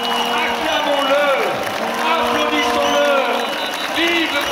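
A crowd at a political speech applauds and cheers steadily and loudly, with voices rising over the clapping and no pause throughout.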